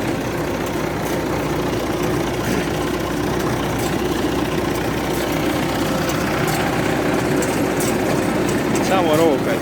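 An IMT 579 tractor engine ticks over steadily at idle on dry farmland during corn baling, a continuous low chugging drone that stays even throughout, with someone talking over it.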